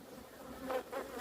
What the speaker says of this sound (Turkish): Maskenin içinde arı var.